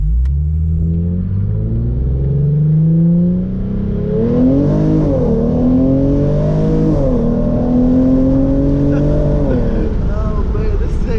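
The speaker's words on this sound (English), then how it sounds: "let's do a first gear pull." A Hyundai Genesis Coupe 3.8 V6 with an ARK GRiP exhaust pulls hard through first gear. It starts from a deep idle rumble and climbs into a loud, rising engine howl with brief dips in pitch, heard close and alone.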